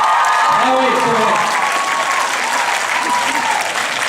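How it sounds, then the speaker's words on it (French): Sustained audience applause for Daniel Radcliffe at a Paris film event, a loud continuous wash of clapping from a large crowd, with voices faintly audible through it. "Daniel, on applaudit s'il vous plaît."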